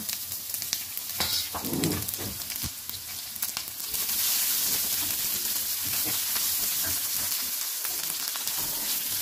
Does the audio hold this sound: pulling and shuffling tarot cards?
no